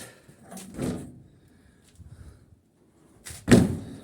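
A tractor cab door is tried on a newly fitted cab: a muffled clunk as it swings, a quiet stretch, then a sharp close-range slam as it shuts.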